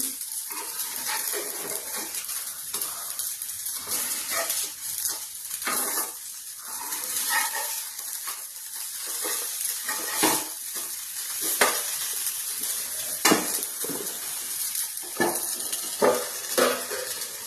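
Tikki patties sizzle steadily in a covered pan as the lid comes off and they are flipped, with metallic clinks and scrapes from a utensil against the pan over the continuous frying hiss.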